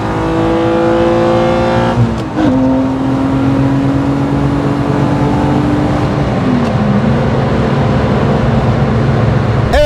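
A 1991 VW Golf 2 with an R32 engine revs loud and close, held at high revs with a couple of brief dips in pitch, running continuously for about ten seconds.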